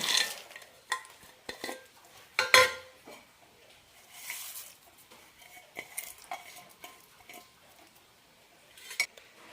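Crispy fried raw banana mixture being stirred and tossed in a bowl, with scattered clinks of a spoon against the dish and dry rustling between quiet pauses, close by.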